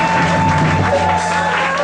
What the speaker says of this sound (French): Acclamez Jésus-Christ